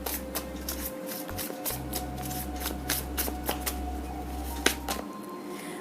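Tarot cards being shuffled by hand, a steady run of close, crisp riffling clicks over a low continuous hum that drops out briefly, with no one talking.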